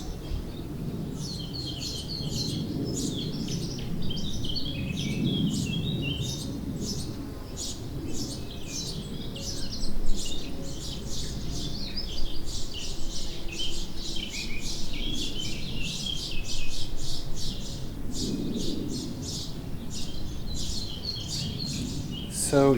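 Birds chirp and tweet continuously in a backyard garden, recorded through a microphone placed inside an IKEA salad bowl, with a steady low rumble of distant traffic and outdoor ambience underneath.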